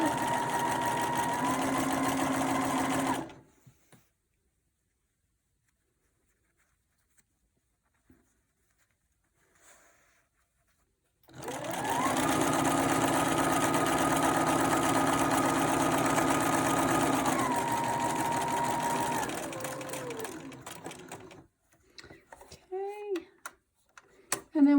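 A sewing machine stitches a pacifier clip in two loud, steady whirring runs, one short at the start and a longer one after a long silent pause, ending with a few scattered clicks and handling noises.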